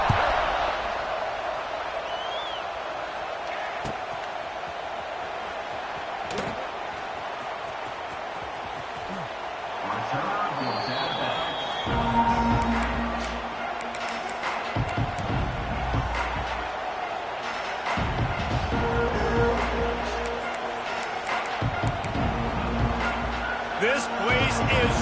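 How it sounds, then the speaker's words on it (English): Loud stadium crowd roaring in a football video game, a steady wash of noise with rising swells and rhythmic chanting bursts, under continuous commentary. "This place is roaring, and it's going to be so hard to operate under these conditions."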